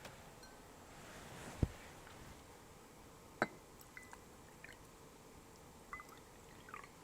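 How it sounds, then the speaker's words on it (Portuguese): Water is poured into cups for a salt-and-water mixing experiment in a primary-school science lesson, a faint, soft trickle with a few small clinks and taps, in a quiet room. "vamos colocar água nos copos e vamos verificar essas misturas"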